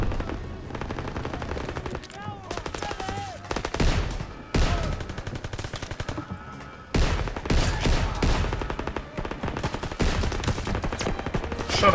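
Rapid gunfire from Call of Duty WW2 campaign play, with bursts of automatic and single shots, loud and dense, broken by brief pauses, with in-game voices and effects mixed in.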